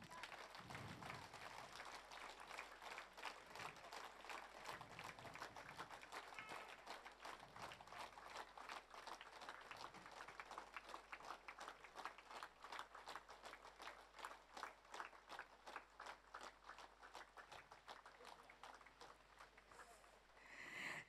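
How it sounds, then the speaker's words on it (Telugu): Audience applause at a memorial gathering held at the Maheswara Maha Pyramid, a steady dense clapping from a crowd that carries on for about twenty seconds and swells briefly at the end. "Big claps."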